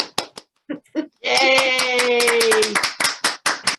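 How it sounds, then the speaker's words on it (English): A meeting audience claps in scattered bursts at a community conservancy annual meeting, joined by a cheer and a sustained sung or cheering voice in the middle, then clapping continues unevenly. "Can we clap?"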